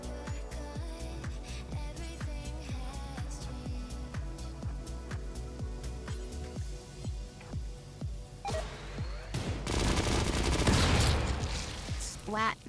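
Colonists firing on a creature in the video game Rimworld: rapid, evenly spaced gunshots in a long volley, followed by a louder burst of crackling, splattering impact noise near the end.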